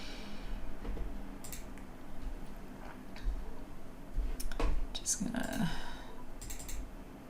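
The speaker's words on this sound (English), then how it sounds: "Just double clicking" A computer mouse clicks close up while someone works in Photoshop, with scattered sharp clicks including quick pairs, soft keyboard-like taps, and faint background sounds between them.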